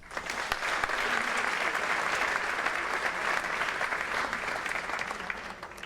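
An audience at a school awards ceremony applauds steadily, a continuous even wash of many hands clapping that holds at a constant level.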